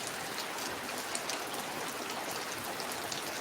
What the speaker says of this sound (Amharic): እንደ ጉድ ነው የሚሄደው ዝናቡ